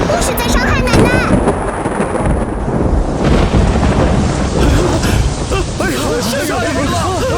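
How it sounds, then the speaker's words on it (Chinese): Loud thunder rumbles and crashes over steady heavy rain, a dramatic storm effect with a faint murmur of voices in the background. "下雨了！"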